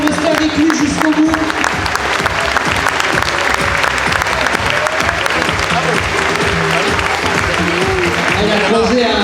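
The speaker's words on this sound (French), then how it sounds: "On peut l'applaudir, Johan, pour rester avec lui jusqu'au bout." Stadium spectators at a 5000m race-walking event applaud in a loud, continuous rhythmic clapping that carries throughout, with voices and cheering blended into the crowd noise.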